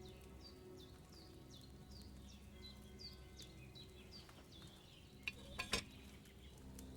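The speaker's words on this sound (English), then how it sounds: "Hear that bubbling? It's boiling." In Kingdom Come Deliverance II, a cauldron of wine-based potion boils over a flame, giving a faint, steady bubbling and sizzling bed with a few sharper clinks near the end and birdsong chirping repeatedly in the background.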